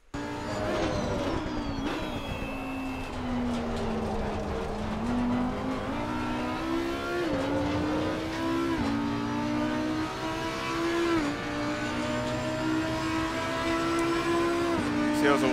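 An Audi GT race car's engine in the sim racing game Assetto Corsa Competizione at Donington, droning steadily throughout with rising and falling pitch through gear changes and revs, loud and continuous.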